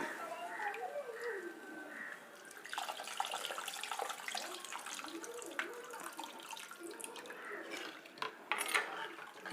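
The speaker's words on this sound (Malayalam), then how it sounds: "കുറച്ചുകൂടെ വെള്ളം ഒഴിച്ചു കൊടുക്കാം." Water poured into rasam while cooking, a soft trickling splash running for several seconds, with quiet kitchen clatter and a voice talking over it.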